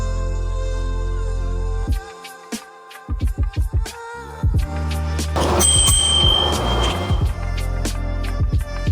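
Bicycle bell clamped on the handlebar of a Himiway C5 e-bike, rung in a series of short bright dings and a longer ringing burst midway, close and clear over a steady low hum.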